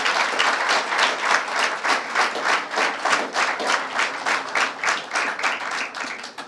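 An audience at a political party gathering claps loudly and steadily, a dense wall of applause with rhythmic surges that carries on for several seconds without talk.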